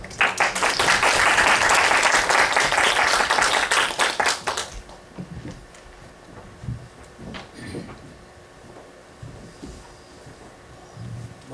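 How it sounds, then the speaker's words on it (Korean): Audience applause at a Korean lecture hall greeting a senior mathematics professor, loud dense clapping for about four seconds, then quickly dying away into scattered claps and room noise. "큰 박수로 한번 환영해 주시면 감사하겠습니다."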